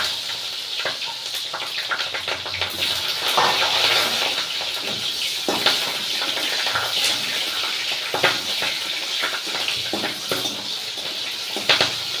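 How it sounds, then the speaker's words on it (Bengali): Onions fry in a pan with a loud, continuous crackling sizzle and spattering bursts throughout, heard up close with no talking. "পেঁয়াজগুলো ভেজে নেবো"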